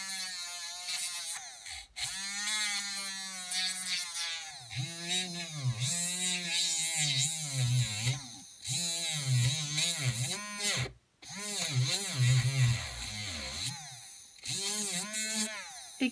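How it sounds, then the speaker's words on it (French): A small electric nail file whirs steadily, its pitch dipping and rising as it sands against a nail surface, with brief pauses between passes. "je viens donner un petit coup de ponceuse."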